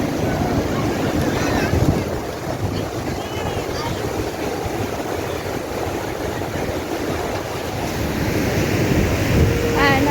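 Sea waves rolling at an ocean shore at sunrise, a broad, continuous wash of surf with wind buffeting the microphone, swelling slightly near the start and end, with faint voices in the background.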